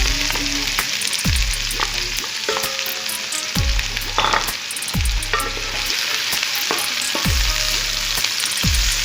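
Two medium chopped onions frying in oil, about a cup, for a potato bhujia, a loud dense sizzle with bursts of crackling and periodic low thumps and scraping.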